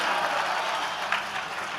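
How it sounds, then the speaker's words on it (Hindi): An audience at a Haridwar Yatra gathering applauds a children's performance, a broad, even rush of clapping that holds steady and sounds somewhat distant and soft, with no one talking. "जोरदार तालियां हो जाएं।"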